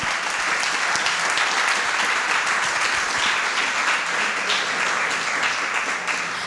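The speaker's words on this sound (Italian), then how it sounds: "Facciamo un forte applauso al direttore" A crowd at a film festival in Ruvo del Monte, Basilicata, gives a strong, sustained round of applause for artistic director Alberto Nigro, a loud, even wall of many hands clapping throughout.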